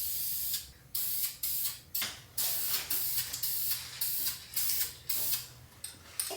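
Brake cleaner and compressed air sprayed onto a truck part, probably a P-pump on a 12-valve truck: repeated short hissing bursts in a steady rhythm, each blast fading before the next, close and fairly loud.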